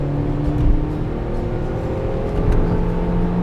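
Car engine pulling hard on the wet Nürburgring track, a steady in-cabin drone that rises slightly in pitch as it accelerates, with no talk over it.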